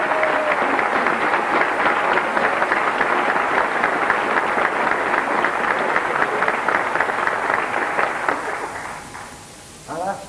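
Audience at an amateur operatic society stage show, the Rolls Royce Operatic Society in Derby in 1984, clapping in a dense, even wave that holds for about nine seconds, then dies away, with a brief burst of noise at the end.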